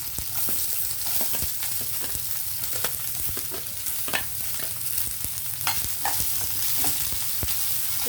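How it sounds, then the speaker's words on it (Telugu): Chopped onions hit a pan of sizzling green chillies and coriander for a potato and capsicum fry, making a continuous close sizzle broken by frequent scraping and clinking spatula strokes, with no talking. "అవి ఫ్రై అవుతున్నప్పుడే మనం ఉల్లిపాయలు వేసేద్దాం ఆనియన్ వేసేసి"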